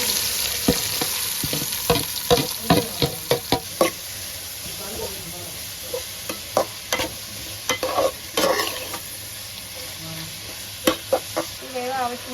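Cardamom, cloves and cinnamon for beef curry sautéing in a pan, with a steady sizzle under repeated sharp knocks and scrapes of a spoon stirring against the metal, loud and close.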